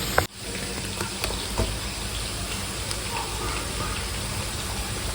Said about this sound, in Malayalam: നമുക്കിതൊന്ന് വഴറ്റി യോജിപ്പിച്ച് വേവിച്ചെടുക്കാം